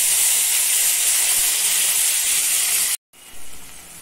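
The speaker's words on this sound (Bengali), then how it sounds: "এই যে মশলাটা যেটা দিলাম বাটা মশলাটা, এটাকে আঁচ বাড়িয়ে আমি আগে ভাজা ভাজা করে নেব" A steady loud hiss of onion, garlic and ginger spice paste frying over raised heat in a pan, continuous for about three seconds. It cuts off briefly, then resumes more quietly.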